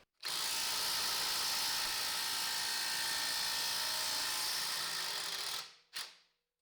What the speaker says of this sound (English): we'll try this again now with the impact driver before we move up to the bigger equipment